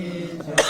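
A single short cough breaks in near the end, right after a sustained musical tone in a devotional song setting.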